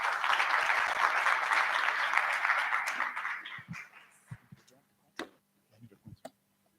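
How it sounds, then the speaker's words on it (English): Audience applause for a speaker introduced at an AI business innovation event, a steady broadband roar of clapping for about four seconds that thins into a few scattered, isolated claps before fading out. "please, everybody, give a round of applause for Michael"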